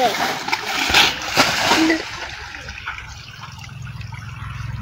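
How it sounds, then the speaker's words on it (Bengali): Water splashes and pours loudly at the start, settling into a softer trickle and slosh, with voices talking over it. "জল পড়ে যেতেছে না?"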